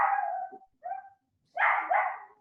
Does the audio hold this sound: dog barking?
yes